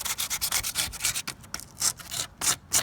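Close, rhythmic scratchy sanding strokes removing surface rust from a BMW E36 car body panel, repeated back and forth at a steady quick pace with no voices.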